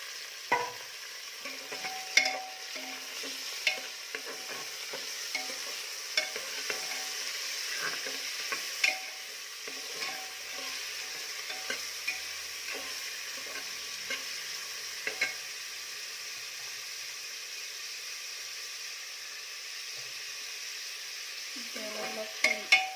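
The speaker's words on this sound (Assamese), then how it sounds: "এতিয়া মই পিঁয়াজখিনি অলপ ৰঙচুৱা হ'বলৈ দিম, অলপ ভাজিম।" Onion and carrot fry in hot oil for pulao, a steady soft sizzle with frequent scraping taps of a spoon stirring the pan, fairly quiet and near.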